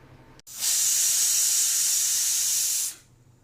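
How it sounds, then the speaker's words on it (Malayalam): Pressure cooker cooking beef lets out one loud, sustained steam hiss lasting about two and a half seconds, starting sharply and tapering off at the end. "ഇത് കുക്കറിൽ നമുക്കൊന്ന് വേവിച്ചെടുത്താൽ മതി"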